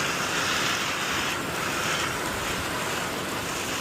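Strong storm wind blows in a continuous rushing roar, loud and close, buffeting steadily with no voices.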